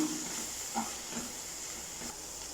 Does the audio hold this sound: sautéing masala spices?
yes